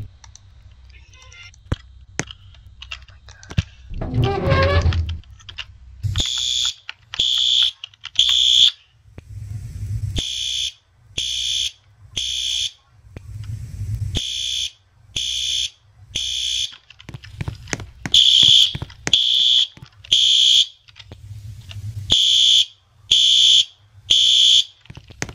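Fire alarm sounding in a Roblox video game during a gym-area inspection, loud repeated bursts of a horn-and-strobe style signal in a steady on-off pattern, with clicks and brief voice sounds between.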